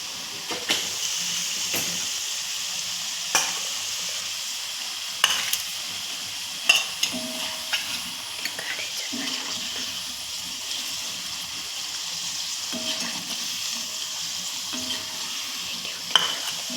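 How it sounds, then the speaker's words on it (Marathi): Frying over a medium gas flame, a continuous close sizzle and hiss punctuated by sharp clicks and stirring taps. "चला आता थोडी गॅसची फ्लेम मीडियम करायची आणि मग त्याच्यावरती तळायचं"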